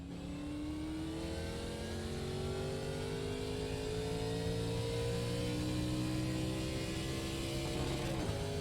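Chevrolet Monte Carlo Gen 4 stock car in the iRacing sim, its engine revving steadily and rising in pitch over several seconds, loud and continuous with no talk.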